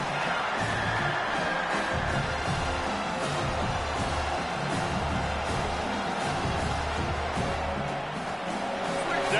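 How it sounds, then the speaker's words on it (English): A stadium crowd in the Madden football video game roars steadily on a third down, a dense continuous wash of cheering and noise that holds at an even level without a break. "Decibels rising as the crowd gets behind this defense on third down."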